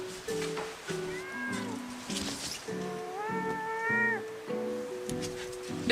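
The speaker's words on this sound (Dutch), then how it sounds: "De poes is wel thuis" A house cat at a delivery address meows again and again, long rising and falling calls close by, with faint background noise between them.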